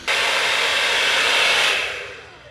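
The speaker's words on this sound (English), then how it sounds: "nice hair dryer, just as good as the good quality one I have at home." A hair dryer in a cruise ship cabin blows a steady, loud, close whoosh for about two seconds, then winds down, with no voices.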